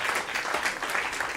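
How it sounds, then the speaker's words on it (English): Steady audience applause after a jazz performance at a museum event in New Orleans, a dense, even roll of many hands clapping at close-to-moderate distance with no talk over it. "Everybody give a round of applause."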